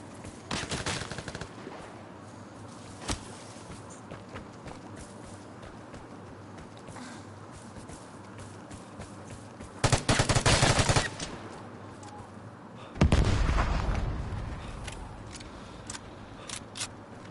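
Gunfire in the video game Vigor, with scattered single shots plus two longer automatic bursts around the middle, fairly loud against a quiet background.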